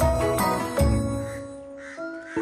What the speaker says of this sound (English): Can you hear that sound? See, that's a tailor bird.